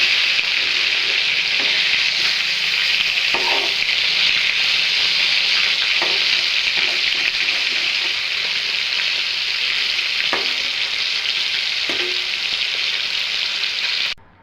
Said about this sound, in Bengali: মাছগুলো এখন উল্টাই দিব আমি। এদিকটা হয়ে গেছে, এদিকটা উল্টাই দিব।